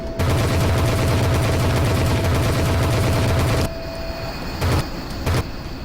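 A machine gun in the flight combat game Vector Thrust fires a loud, sustained rapid stream that suddenly cuts off, followed by a quieter hum broken by a couple of short bursts.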